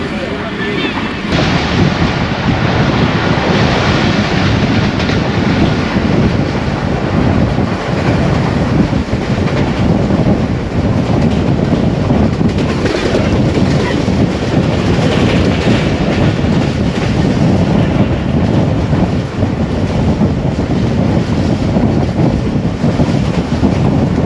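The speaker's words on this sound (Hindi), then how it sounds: "इस वक्त कामोकी रेलवे स्टेशन से थ्रू पास कर रहे हैं" The 39UP Jaffar Express passenger train runs on a single-line track through Kamoke station, with a steady roar of wheels and rhythmic clickety-clack and wind buffeting the microphone throughout, loud and close from inside or beside the moving train.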